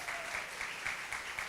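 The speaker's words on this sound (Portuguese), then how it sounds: "Aplaudo o Senhor por esse casal bonito aí." A church congregation applauds during a revival service, with a brief, steady burst of many hands clapping together in a rhythmic patter.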